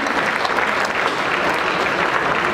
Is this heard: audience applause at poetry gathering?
yes